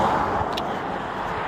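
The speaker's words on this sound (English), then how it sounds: "there is more traffic, because I can hear it coming from behind me" Road traffic passes nearby along a street, a steady broadband rumble and whoosh of a car going by outdoors, fairly loud and continuous with no speech.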